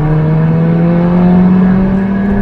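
Stage 2 Mk2 Seat Leon FR with a 3-inch downpipe and S3 intercooler pulls hard in third gear from about 3,500 rpm, a loud, steady engine drone with a rising tone heard from inside the car.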